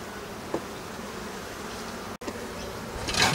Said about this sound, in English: Plenty of bees on that one.